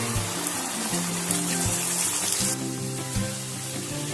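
Spices crackling and sizzling in hot oil while cooking stuffed eggplant with cashews (yennegai), a loud continuous sizzle dotted with quick pops and crackles, close up with no talking.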